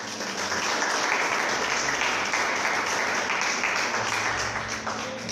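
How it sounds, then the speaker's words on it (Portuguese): A church congregation gives a round of applause for Jesus during a sermon, a dense, even wash of many clapping hands at steady loudness. "Uma salva de palmas para Jesus."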